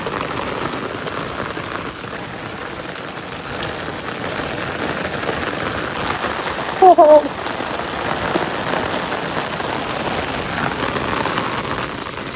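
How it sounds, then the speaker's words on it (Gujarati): Heavy rain falls in a village, a dense and steady drumming hiss on surfaces throughout, with a brief spoken exclamation near the middle. "શું તમારા ગામમાં પણ આવો વરસાદ છે?"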